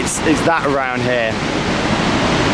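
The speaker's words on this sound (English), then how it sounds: "the water falling over and hitting the bottom of the river here and hitting all the rocks" Niagara Falls in Ontario, Canada, its water plunging onto rocks at the river bottom, a loud, dense, continuous roar close by, with a person speaking briefly over it at the start.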